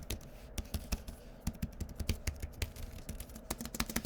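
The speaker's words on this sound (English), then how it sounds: "The keys feel clicky and responsive, which is great." Fingers typing on a clicky keyboard for an iPad Mini 7, a quick irregular run of sharp, close taps and clacks at fairly low volume.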